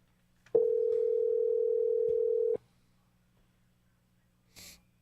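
A single long telephone tone sounds close and steady for about two seconds as a call rings out during a live sports talk show, followed by quiet and a brief breathy noise.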